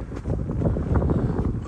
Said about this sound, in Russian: обратите внимание, что дует ветер, она еще шатается